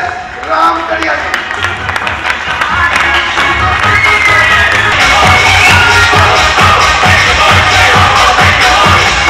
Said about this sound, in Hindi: तालियां बहुत बढ़ गई, अभी तालियों की जरूरत नहीं है